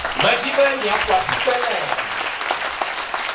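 Applause for a woman at a funeral service, clapping from a crowd that fills the whole stretch, loud and steady, with voices mixed in among the hands.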